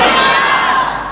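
A large crowd at a religious gathering shouts Subhan Allah in unison, a loud, sustained roar of many voices with a faint tail-off at the end.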